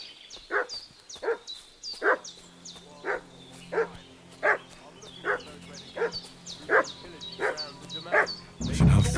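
Dog barking in the video game Kingdom Come Deliverance 2, a dozen loud, evenly spaced single barks about every 0.7 seconds, close and clear over a quiet background, ending with a burst of low noise.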